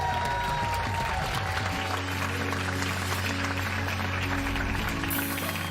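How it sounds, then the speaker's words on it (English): Studio audience applause on a late-night television talk show, sustained loud clapping from a crowd, dense and continuous, with some cheering and a musical sting underneath before cutting off abruptly. "All right, yes, applaud."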